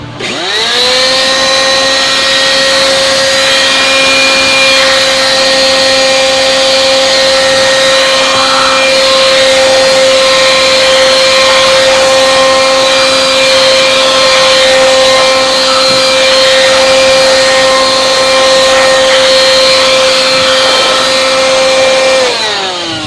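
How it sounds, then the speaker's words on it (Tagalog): Electric blower running steadily for over twenty seconds, blowing dust out of an amplifier during a volume control repair; a loud, constant high-pitched motor whine with strong harmonic tones, close up and without talk. "mabuti na lang may blower ako i-blower natin yan"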